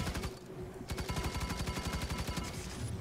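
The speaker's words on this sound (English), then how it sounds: "I really don't like that gun he's firing" An elite enemy's sniper gun fires in the game Firefall, a fast, regular string of sharp shots rattling off one after another, fairly quiet and heard alone.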